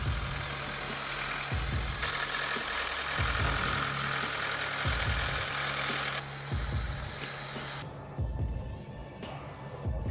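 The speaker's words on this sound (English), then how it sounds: "Now here's a rare setup, the Volvo BM 650 half tracker." The diesel engine of a Volvo BM 650 half-track logging tractor runs steadily with a deep, rhythmic throbbing chug, fairly close, the broad noise easing off toward the end.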